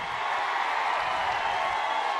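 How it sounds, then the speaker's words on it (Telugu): A crowd applauds at a political rally in Uravakonda with Chandrababu Naidu, a steady wash of clapping heard from a distance for a couple of seconds. "గట్టిగా చప్పట్లు కూడా చెప్పండి"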